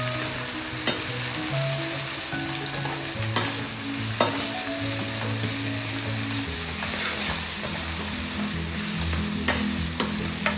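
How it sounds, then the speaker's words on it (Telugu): Masala frying in a pan while being stirred, a continuous sizzle with a spoon scraping and clacking against the pan at irregular intervals, and a low hum running underneath. "ఈ పచ్చివాసన పోయేంత వరకు కూడా కలుపుకుందాం."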